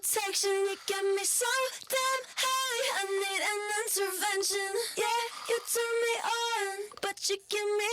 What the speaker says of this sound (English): higher vocal, little bit of distortion to get it to cut